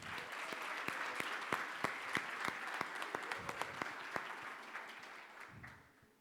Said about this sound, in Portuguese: Salva de palmas para todos vocês.